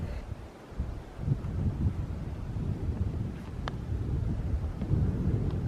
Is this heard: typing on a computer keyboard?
no